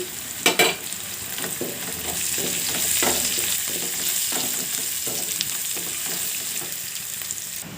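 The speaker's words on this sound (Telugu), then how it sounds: "ఇప్పుడు కట్ చేసిన ఆనియన్స్ వేసుకోండి ఇవి గోల్డెన్ కలర్ వచ్చే వరకు వేగనివ్వండి" Chopped onions and green chillies sizzle in hot oil with a continuous hiss, broken by spoon scrapes and taps while the pan is stirred.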